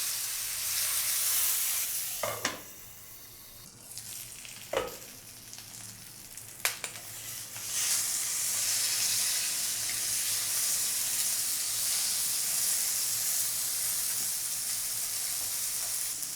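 Vanjaram fish frying in a covered pan over a medium flame, a steady close sizzle throughout, broken by a few brief clatters and a short quieter stretch in the first half.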